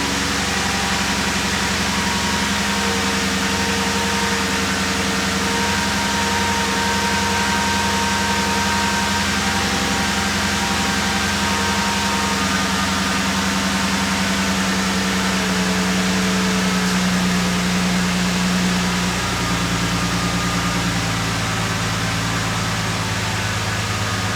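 A Jeep engine runs at a steady, loud idle, a continuous low rumble with a faint whine on top that holds for the whole stretch, with no voices over it.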